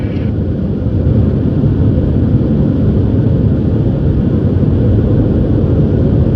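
An aircraft engine set to cruise power fills a cockpit with a loud, steady, low rumbling drone that holds unchanged throughout.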